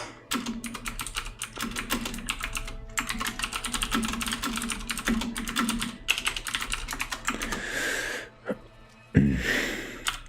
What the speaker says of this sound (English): Is your keyboard so loud?